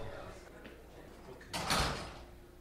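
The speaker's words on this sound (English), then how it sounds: "Scott, should we shut the door?" A door shuts in a quiet room, giving a single broadband thud-and-rush about midway through, with faint background talk.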